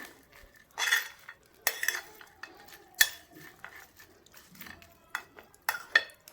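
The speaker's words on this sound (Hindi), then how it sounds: "ये मैं इस तरह से इसे मिक्स कर दूंगी" A spoon stirring a chura matar mixture of flattened rice and peas in a pan, giving irregular close metallic scrapes and clinks in scattered bursts over soft background rustle.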